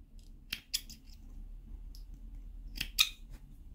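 Small thread-trimming scissors snip sewing threads at a finished seam, giving a few crisp, close metallic snips spaced apart over a quiet background with no talking.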